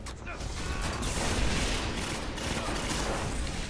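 Rapid gunfire from a video game weapon, a dense, fast stream of shots blending into a continuous crackling roar at steady loudness, with faint talk mixed underneath.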